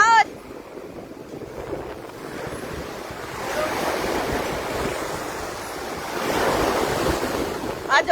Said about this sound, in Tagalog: Nagtubi ang dagat!